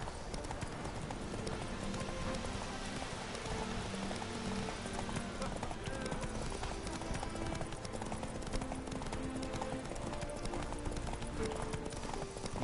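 Hooves of Roach, Geralt's horse in The Witcher video game, pound in a continuous galloping clip-clop, steady and fairly close, with busy game ambience underneath.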